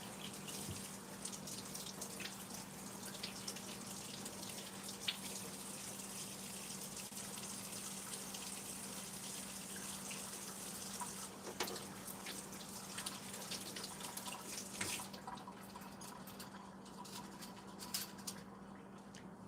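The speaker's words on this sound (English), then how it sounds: "And then you rinse it out." Running tap water pours steadily into a kitchen sink while a tea-stained mug is rinsed out, a continuous close gush with a low steady hum underneath and a few brief splashes and clunks.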